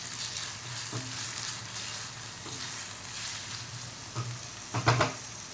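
Masala for sambar sizzles and fries in a pan with a steady, soft hiss. A few small clinks and stirring knocks come near the end. No one speaks.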